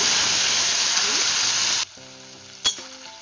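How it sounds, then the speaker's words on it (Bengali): Loud, steady sizzling of food frying in hot oil in a wok, cutting off abruptly partway through, followed by a quiet hum and a brief clatter. "এই কড়াইয়ে তেল গরম হয়ে গেছে, প্রথমেই দিয়ে দিচ্ছি"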